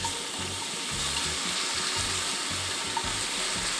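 Cabbage and garlic stir-fry in oil with a continuous, close sizzle and hiss. Soft scraping stir sounds come at a roughly regular pace underneath.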